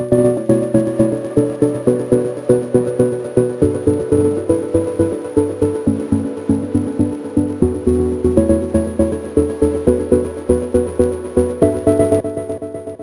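Main synth lead of a dreamy progressive house track, a bright layered chord melody pulsing in steady rhythmic stabs, loud and alone with no voices.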